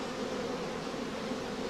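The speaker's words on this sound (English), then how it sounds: "Another aspect of bee behaviour is calmness on comb after its removal from the hive." Honeybees on a comb just lifted from the hive make a steady, dense, quiet buzzing hum that continues unbroken throughout.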